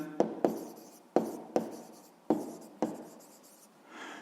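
Pen or chalk writing out a sixth-grade math exercise, a handful of sharp taps followed by short scratchy strokes at an uneven pace, close and fairly quiet, with no talking.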